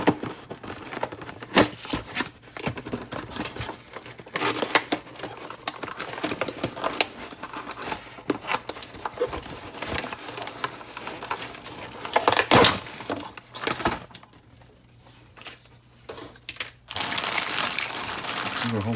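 Plastic bag of die-cast model kit parts for a Toyota Supra crinkles and rustles in bursts while being unpacked, close and fairly loud, with a quieter pause near the end.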